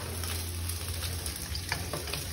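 Pakoras frying in hot oil, a steady soft sizzle with faint crackles and occasional spoon stirring, continuous and close.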